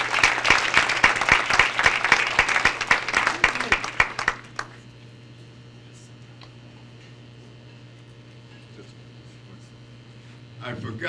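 An audience applauds an imam for about four seconds, crisp and loud, then cuts off to a quiet room with a steady hum, and a faint stir returns at the end.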